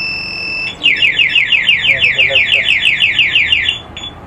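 A car's two-way alarm system goes off once activated, a loud rapid warbling siren pulsing over a few seconds, preceded by a short steady tone, close by and with no talk over it.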